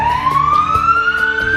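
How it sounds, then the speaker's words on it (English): An ambulance siren wails loud and close, one tone sweeping steadily upward over a second and a half against a rapid pulsing background. "hearing the sirens of the ambulance stop in front of my house"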